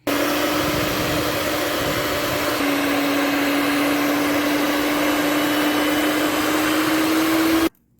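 An electric mixer whirs steadily and loudly as it mixes flour into apple banana cake batter, a constant motor drone with a faint shifting pitch that cuts off abruptly at the end.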